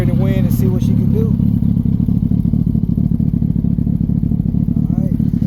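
A 2006 Yamaha R1 sportbike, rebuilt after a wreck, runs with a loud, steady engine roar that stays close and strong, while a voice talks over it near the start.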